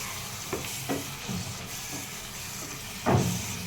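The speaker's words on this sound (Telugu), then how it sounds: "ఇప్పుడు దీంట్లో మనం మష్రూమ్స్ కూడా వేసేసుకోవాలి. వేసుకొని ఒక్కసారి కలుపుకుందాం." Mushrooms stirred into a masala in a pan sizzle softly and steadily, broken by several spaced scraping strokes of a spoon, the last one louder, with no talk over them.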